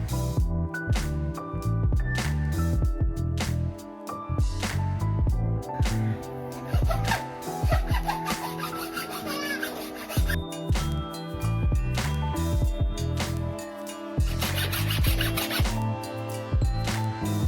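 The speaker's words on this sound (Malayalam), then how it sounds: "മുള നമ്മൾ ചെറിയ കഷ്ണങ്ങളായിട്ട് കട്ട് ചെയ്തെടുക്കാം" Dried bamboo being cut into small pieces, with bursts of rasping, scraping strokes that come and go over steady background music.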